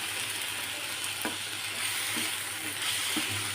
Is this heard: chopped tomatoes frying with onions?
yes